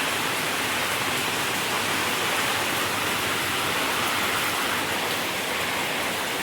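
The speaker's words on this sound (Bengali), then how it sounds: "ভালোই বৃষ্টি হচ্ছে।" Heavy evening rain pouring outside, a dense, loud and unbroken hiss of falling water that holds steady with no other sounds over it.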